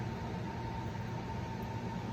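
Large air vent in an indoor plant room roaring steadily, a constant broadband hiss and low rumble with a faint hum, filling the space without change.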